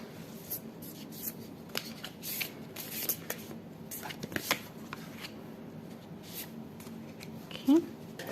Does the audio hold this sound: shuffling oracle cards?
yes